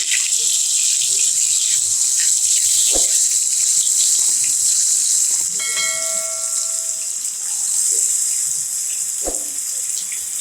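Marinated chicken frying in hot oil with curry leaves gives a loud, steady, bright sizzle that continues without a break, with a few faint clicks and knocks from the pan and no talking.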